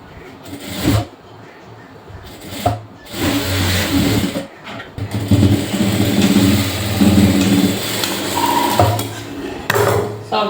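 A sewing machine runs in bursts while stitching a blouse sleeve and side seam, its motor whirring steadily between short pauses, with a voice talking over parts of it.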